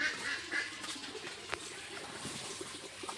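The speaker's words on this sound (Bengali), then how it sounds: "এই যে দেখেন আমাদের হাঁস হচ্ছে আদর খাইতে আসছে" Domestic duck at home, faint soft quacks and calls over a steady hiss of background noise, a few brief vocal bursts spread across the moment.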